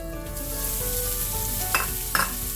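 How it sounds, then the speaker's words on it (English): Alaskan king crab browns in butter in a pan over a lower flame, a dense steady sizzle close by with two brief scrapes of a utensil near the end. "we're going to brown our crab."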